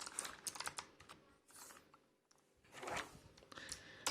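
Typing on a Razer Huntsman Elite mechanical keyboard: close, dense bursts of clacking keystrokes in uneven runs, with a short pause midway before the typing picks up again.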